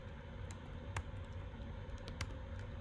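Faint keyboard typing while coding JavaScript, a few scattered clicks and taps over a low steady background hum, no talking.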